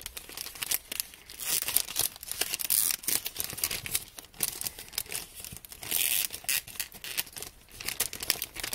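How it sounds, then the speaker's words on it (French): Scissors snip and crinkle through heavily taped wrapping on an advent calendar box, a busy run of close crunching, tearing and cutting sounds filling the clip with no talk. "Je vais y aller avec les ciseaux."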